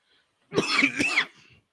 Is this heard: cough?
yes